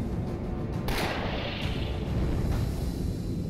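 Grenade explosion in the video game Shadowgrounds: Survivor, a heavy booming blast bursting over a dense rumbling backdrop, with a second softer thump following, no talk.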